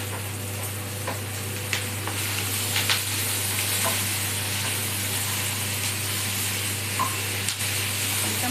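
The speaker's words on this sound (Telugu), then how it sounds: "కొంచెం పచ్చివాసన పోయినంత వరకు ఫ్రై చేస్తున్నామండి, ఎందుకంటే గ్రేవీ కావాలి కదా ఎగ్ కర్రీకి" Tomatoes and onions fry in a pan as the base for an egg curry gravy, giving a steady close sizzle with occasional stirring clicks and a constant low hum underneath.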